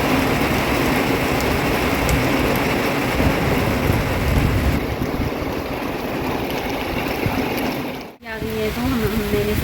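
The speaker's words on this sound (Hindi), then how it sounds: "इतनी खतरनाक बारिश में बाप रे, इतनी तेज़ हवा भी चल रही है।" Heavy monsoon-type rain roars steadily with strong gusty wind throughout in Uttarakhand, broken by a brief dropout near the end; a voice is faintly present underneath.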